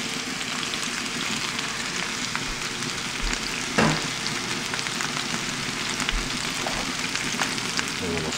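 Fresh vegetables and mushrooms sizzle and crackle steadily in a hot frying pan, with a brief stirring scrape partway through, loud and close.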